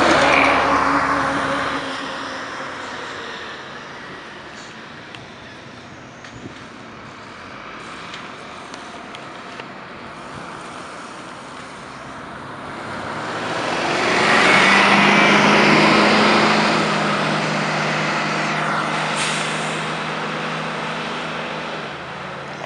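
Detroit Diesel two-stroke engines in classic MCI and Nova city buses, a long rumbling drone that fades down in the middle and then swells loudly as a bus passes close, before easing off again.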